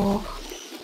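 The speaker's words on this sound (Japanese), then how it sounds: "フクロウじゃなくてキジバトだぞ。" A single soft, low turtle dove coo in a video game, brief and close, fading quickly into quiet background.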